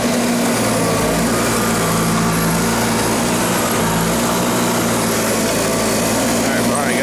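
A small high-revving engine on a little vehicle spinning its tires in snow, a loud continuous buzzing whine close by throughout, with a person talking over it.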